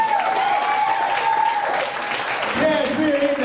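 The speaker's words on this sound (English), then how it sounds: "Man, look, y'all clap for that." An audience applauds a spoken word performer on a talk show stage, a dense, steady wash of clapping and crowd noise under a sustained musical tone that shifts partway through.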